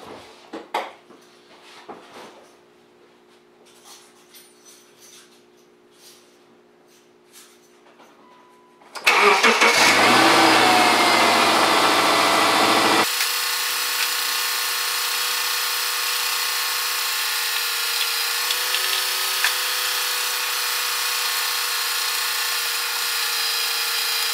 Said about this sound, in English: I'm going to start her up and I'm going to crank the AC